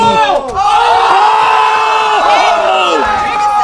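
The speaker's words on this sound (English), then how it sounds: "His teammates are cheering for him." Loud crowd of teammates cheering and whooping at an underground trampwall competition, a sustained burst of shouts and yells that swells and stays close throughout.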